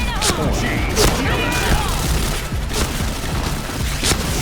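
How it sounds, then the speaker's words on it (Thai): Gunshots and heavy booms in the shooter game Point Blank, loud and close, with irregular bursts and impacts scattered through a steady background of game noise and voices. "เขายิงเราไม่โดนนะครับเมื่อกี้ถ้ายิงโดนผมก็ตายแล้วนะครับ"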